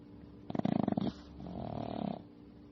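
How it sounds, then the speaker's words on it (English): A dog snores while napping: a loud, rattling snort on the inhale followed by a softer, smoother breath out, heard once, close and alone. "That's Chewy snoring. He's taking a nap"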